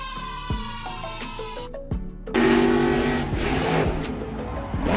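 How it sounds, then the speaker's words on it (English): A monster truck styled as a red-and-gold fire truck revs its engine at a show arena, loud mechanical roaring with sharp rising and falling surges and squeal-like tones, swelling louder after a brief dip midway. "Its roaring engine and powerful stunts light up the show with excitement."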